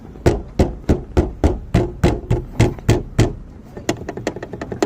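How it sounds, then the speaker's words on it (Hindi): Closed front door of a Renault Kwid car being knocked on, giving a series of about fifteen sharp, rattling knocks in quick even rhythm, loud and close, with no talk over them. "बंद दरवाजे में कैसी आवाज़ आती है,"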